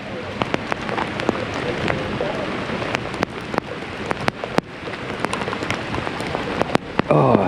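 Heavy rain falls steadily during an Australian flood along the Georges River, a close, continuous hiss with sharp drops striking nearby surfaces throughout.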